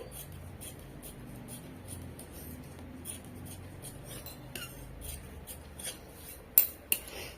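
Scissors snip through extra blouse lining fabric in a series of faint, crisp cuts spaced about half a second apart, with two sharper clicks near the end over quiet room tone.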